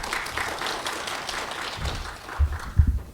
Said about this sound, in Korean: 큰 박수로 환영하여 주시기 바랍니다.